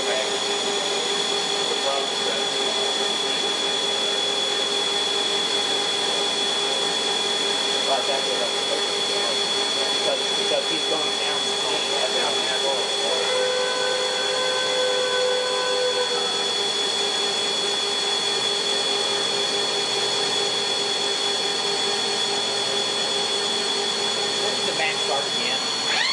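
An LPM CNC machine cuts a spiral on its 4th axis, moving X, Z and A together, giving a continuous mechanical whine with steady tonal hums that stay even throughout.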